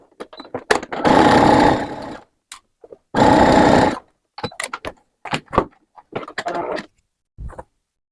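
A sewing machine stitches a seam on a Santa Claus costume jacket, one centimetre from the fabric edge. Two sustained whirring runs are heard, with scattered clicks and handling taps of the fabric and machine between them.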